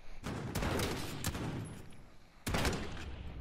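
Gunfire in Call of Duty Modern Warfare: dense, loud bursts of rapid shots, a sustained volley followed by a brief lull and then another sharp burst, with no talking.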